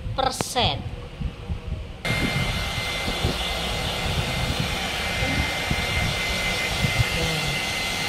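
A hair dryer blows on freshly washed hair after a keratin treatment, its loud, steady whooshing roar switching on after a brief moment of talk and continuing unbroken.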